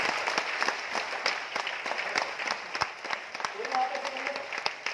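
An audience claps together at a gathering in Aurangabad, Maharashtra, a fairly steady patter of many hands with scattered louder claps, while a voice speaks faintly over it near the end.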